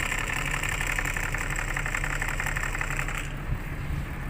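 Rear air-conditioning blower in a Mitsubishi L300 van running noisily, a steady close whirring drone with a faint rattly knock, continuous and loud, with no talking.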